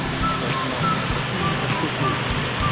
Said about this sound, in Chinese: 然后现在这个是下层瀑布